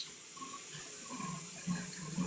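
Shower water runs steadily as a continuous, moderately quiet hiss and splash, with no talking.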